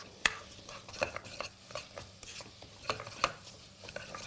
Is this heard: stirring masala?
yes